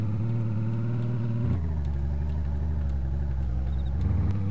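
A car's engine drones steadily while driving in the survival game DayZ, a loud, close rumble that drops in pitch around a gear shift and then builds again, with no talk.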